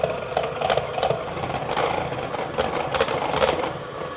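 An electric whisk runs fast, whipping cream with vanilla extract in a large bowl, giving a steady motor whir with brief rattles as the beaters knock the bowl. It is loud and continuous, with no talk.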